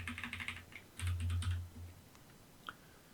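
Computer keyboard shortcut presses in a spreadsheet, a quick run of close key clicks and taps followed by a few isolated strokes, with no voices.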